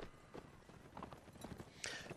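Horse hooves walking in the Napoleonic Wars video game during an online siege event, a soft, steady clip-clop of several footfalls heard faintly over background noise.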